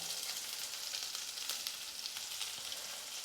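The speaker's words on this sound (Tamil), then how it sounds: "இப்போ வெங்காயம் வந்து நல்லா வதங்கி வரணும்" Onions fry in a pan, giving a fine, even sizzle that holds steady and fairly quiet throughout, with no voices.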